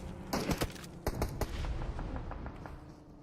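Gunfire in PUBG Battlegrounds during a live India versus South Africa match, a burst of several sharp shots in the first second and a half, then fainter scattered pops fading away.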